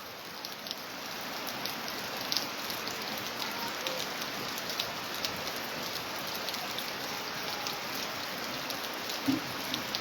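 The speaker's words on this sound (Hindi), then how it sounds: "इस वक्त यहाँ काफ़ी तेज़ तरार बारिश हो रही है।" Heavy rain falls in a remote area of Gool subdivision, a dense, steady hiss of drops on surfaces that holds evenly throughout, with no voices.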